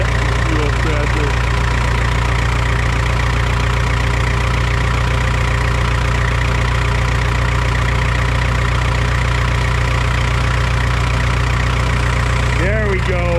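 A Super W6TA tractor engine runs on gas before its diesel switchover, a loud steady low idle with even firing pulses close by, and a short burst of voices near the end.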